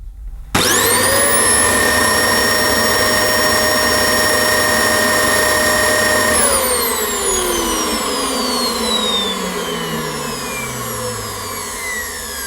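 A Dyson DC25 upright vacuum cleaner runs loud and steady with its filter removed, a strong whining motor tone with a rushing airflow roar, then the pitch slides down steadily as the motor spins down near the end, with no talking.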